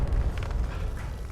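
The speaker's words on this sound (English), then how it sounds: "it seems like the explosion had cleared a path down below me" A dynamite blast rumbles in the Hopalong: The Badlands VR game, a heavy low roar that fills the whole moment with a dense, sustained boom and crackling debris, loud and alone without talk.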